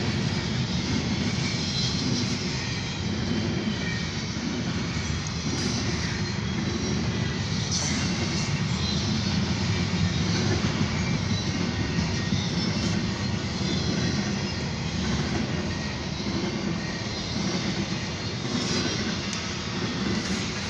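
A Norfolk Southern intermodal freight train heading east rumbles past in a steady, loud, continuous roar with no clear breaks, all without talk.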